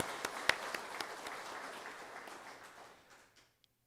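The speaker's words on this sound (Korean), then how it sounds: "우리 다시 한번 감사의 박수 한번 할까요?" A church congregation at a Palm Sunday service claps in thanks, a scattered round of applause with a few sharp hand claps that gradually thins out and fades to silence.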